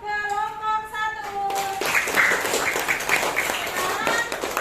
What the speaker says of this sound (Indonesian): Tepuk tangan dong untuk kelompok 1